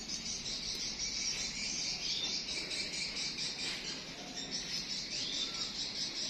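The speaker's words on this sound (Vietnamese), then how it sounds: "Sáng nay mình mời mọi người ngắm hoa và nghe chim hót nha." Birds chirp and trill steadily over a constant high insect-like buzz, an outdoor morning chorus with no talking.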